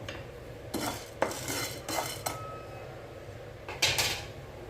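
Urad dal dry-roasts in a pan as a utensil stirs and scrapes it in several distinct bursts, with quieter gaps of faint crackle between strokes.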